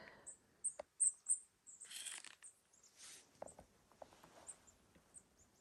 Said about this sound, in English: Birds are singing, chirping.